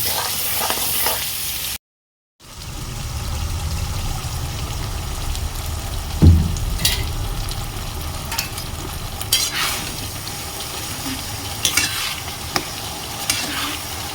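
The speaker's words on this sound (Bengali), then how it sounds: "ভালো করে ভাজা ভাজা ভাজা ভাজা করবো" Chicken pieces fry in a pan for a light curry while being stirred, a continuous near sizzle with a brief silent break early on, then occasional clanks and scrapes of the spatula.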